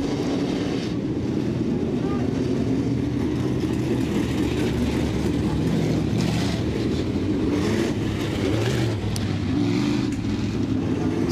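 Modified dirt track race cars roll out onto a Southern Ontario speedway oval before a heat race, a steady loud engine rumble and drone filling the whole stretch with wind buffeting the microphone.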